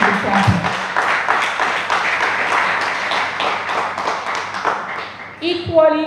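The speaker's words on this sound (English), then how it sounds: "And I ask you to clap." An audience applauding at an entrepreneurship and innovation hub closing ceremony, a sustained patter of clapping that carries through the whole stretch, with a voice talking on a microphone above it near the end.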